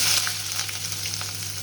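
Onions frying in hot oil give a continuous close sizzle with a faint crackle and a steady low hum underneath, and no talking.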